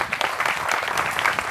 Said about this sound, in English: Why was the clap for that louder than when I came in?